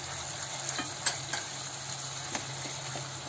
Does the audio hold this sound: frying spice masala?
yes